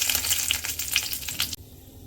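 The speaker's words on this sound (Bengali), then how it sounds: "এবার দারচিনি, লবঙ্গ, এলাচ, একটু গরম মশলা ফোড়ন দিলাম" Cinnamon, cloves, cardamom, garam masala and bay leaf crackling in hot oil for a chicken thecha curry, a dense close spitting sizzle with popping bursts that suddenly drops to a faint hiss.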